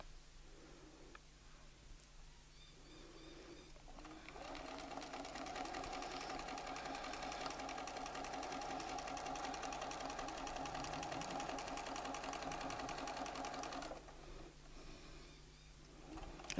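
A domestic sewing machine stitches fabric for a quilting template, its motor whirring in a steady, continuous run of about ten seconds close up, starting and stopping abruptly with quiet pauses on either side.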